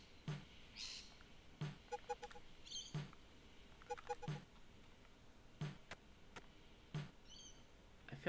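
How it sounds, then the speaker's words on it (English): Loud birds call outside a window, sharp chirps recurring every second or two over a faint, regular ticking background. "Very loud birds by the window."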